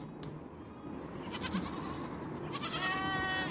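Goats bleat in a Bengali comedy scene, a few thin wavering cries rising over a quiet, hissy background, the clearest one near the end.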